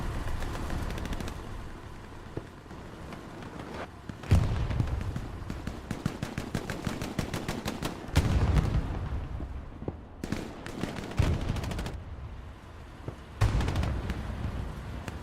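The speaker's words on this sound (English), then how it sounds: "Bomber run's coming down again." Bomber run explosions in the video game Hell Let Loose, a competitive match: repeated heavy booms and blasts rolling over sustained rattling gunfire, loud and dense throughout with several sharp impacts.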